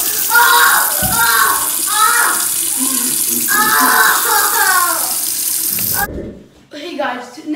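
Hot water gushes loudly from a tap into a bathtub, a steady rushing splash under shouts and yelps from young voices, cutting off abruptly near the end.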